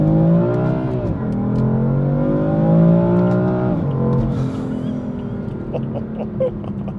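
A BMW M3 rated at about 420 horsepower accelerates at full throttle, its engine rising in pitch through two gear pulls with a shift between them, loud and close from inside the car, then easing off.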